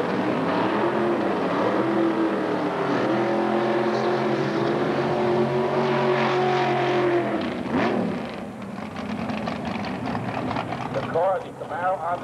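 Dodge drag race car with a roughly 650 cubic inch engine and Power flight transmission, roaring loudly and steadily with rising harmonic tones for several seconds, then shifting pitch and sweeping upward near the end, with a voice talking over it.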